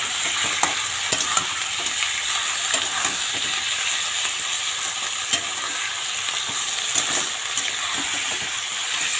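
Raw chicken meat frying in a pan, a continuous loud close sizzle with scattered scraping and stirring clatters throughout, no voices.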